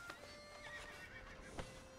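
A horse in the Red Dead Redemption 2 game gives a faint whinny with a wavering, high tone, plus a few soft hoof or tack knocks against a low background of game ambience, with no talk.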